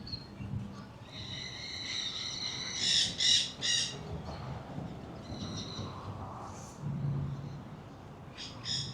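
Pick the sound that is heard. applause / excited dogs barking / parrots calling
parrots calling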